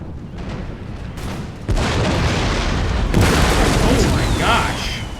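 Heavy booms and crackling blasts of artillery fire in Empire: Total War with the Imperial Splendour mod, a Russian campaign battle. Loud and continuous, the rumbling explosions build and overlap.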